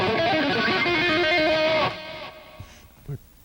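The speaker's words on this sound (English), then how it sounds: "What he does is he pulls off to open strings." Distorted electric guitar playing rapid pull-offs to open strings, a dense fast run that ends with a trill, loud and close, then decays into quieter string noise.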